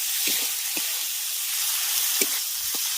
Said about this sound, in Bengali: এবারে মশলাটাকে ভালো করে একটু কষিয়ে নেব